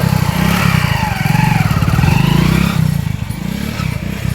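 A loud, close motorcycle engine runs with a throbbing putter, rising slightly then settling back to an idle.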